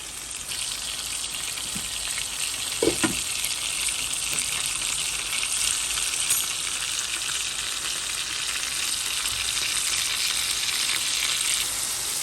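Chicken pieces fry on high heat in a pan, a steady loud sizzle and crackle that runs unbroken, with a brief clatter or stir near the start and no voices.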